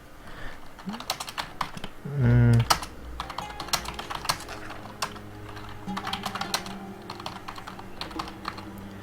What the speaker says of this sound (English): Sorry for not typing that fast.